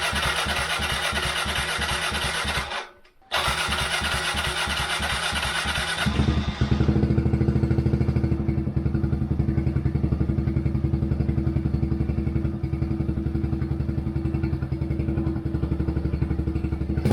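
A Kawasaki KLX110R dirt bike engine cranks with a rapid mechanical chatter, cuts out briefly, then fires up and settles into a loud, steady, close idle.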